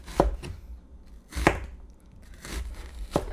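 A knife chops onions on a board for Korean army base stew, making four or five distinct close thuds at an uneven, unhurried pace with brief pauses between them, and no talking.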